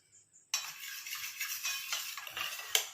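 A spoon stirs and scrapes a wet hair-dye mixture in a bowl, a close, soft swishing with faint clinks that begins abruptly after a short quiet start and ends on a sharper tap.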